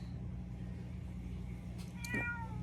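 A house cat gives a single short, faint meow near the end, heard over a steady low indoor hum with no talking.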